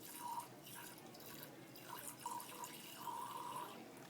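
Water poured from a lab wash bottle into a glass beaker while a standard solution is prepared, giving a faint, steady trickle with a few soft drips, heard close up and alone.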